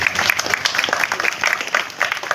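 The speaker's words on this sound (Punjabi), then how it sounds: "ਤੁਸੀਂ ਇਸ ਵਾਸਤੇ ਆਪਣੇ ਆਪ ਵਾਸਤੇ ਤਾਲੀਆਂ ਮਾਰੋਗੇ" A crowd at a village anti-drug rally in Gurdaspur district, Punjab applauds continuously, dense clapping from many hands filling the short stretch at a steady, lively level.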